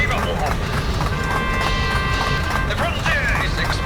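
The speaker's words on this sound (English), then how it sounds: "the Trans-Frontier train has been repaired and is now operational" A train running in the video game Cave Digger, a steady rolling clatter with rhythmic clicks, loud and continuous under a voice talking.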